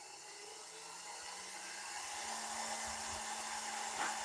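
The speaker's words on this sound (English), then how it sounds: "I'm going to speed right up because the faster that lathe's spinning," A wood lathe spins fast while an oak bowl is turned, giving a steady, faint whirring hum with a soft airy hiss and occasional light scraping underneath.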